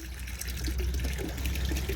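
Water runs steadily into a garden koi pond as it is topped up, a continuous close trickling and splashing flow with no one talking.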